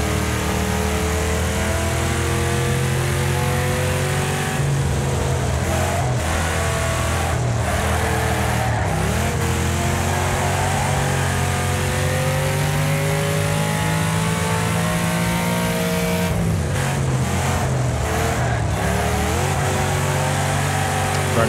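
Race car engine in the video game Wreckfest revving loudly and continuously, pitch climbing and falling through the gears with brief dips as it shifts, close and dominant throughout.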